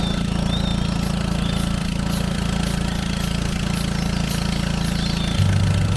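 A motorboat engine drones loud and steady as the boat runs along a narrow, tree-lined peat swamp river in Central Kalimantan, with a constant low rumble that rises slightly near the end.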